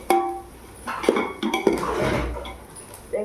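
A metal spoon clanks and scrapes in a pan while six green chillies and onions are sautéed for ghee rice, with sharp clinks followed by a softer stirring rustle.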